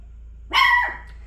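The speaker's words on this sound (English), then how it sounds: "please don't bark at the grocery man" A single loud bark from an indoor dog aimed at a grocery delivery man, a sharp close yelp that trails off, with a quiet background and no talk.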